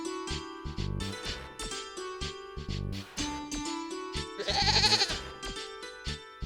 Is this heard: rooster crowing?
no